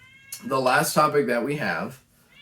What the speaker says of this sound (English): you might hear my cat meowing